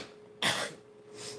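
A single short, close cough bursts out, followed by a softer breathy exhale, with a faint steady hum in the background.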